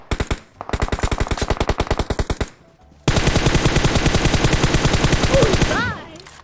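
Rapid automatic gunfire rattles in a mobile shooter game, one sustained burst, a short pause, then a longer, louder burst ending in a few metallic pings, close and continuous.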